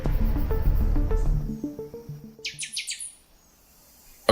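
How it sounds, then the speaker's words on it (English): Wild birds chirping in a short burst of rapid, high tweets that stand out after a fading low musical passage, followed by near silence. "Birds."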